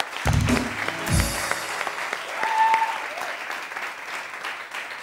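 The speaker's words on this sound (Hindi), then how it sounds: "तो बहुत सारी तालियां" A TV morning show studio audience applauds with steady, dense clapping after a brief low thump at the start, continuing throughout.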